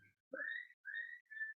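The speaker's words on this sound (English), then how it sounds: "somebody is whistling, and then we've discovered it's one of the devotees' phones here" A phone ringtone of a whistled tune sounds among a gathering of devotees, three clear, rising whistled notes, faint and alone, with no talking.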